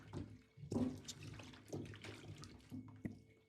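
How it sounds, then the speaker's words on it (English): Fresh ginger roots rinsed under running water in a sink, soft splashing and trickling in uneven bursts as the roots are handled, fairly quiet and close, no talking. "The next step is to thoroughly wash your ginger roots"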